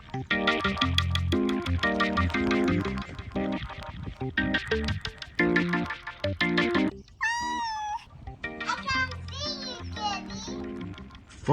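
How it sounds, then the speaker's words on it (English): A little black cat meows in a children's Halloween cartoon, with several sliding cries near the end after busy music and cartoon sound effects. "Finally, Bibi found the little black cat."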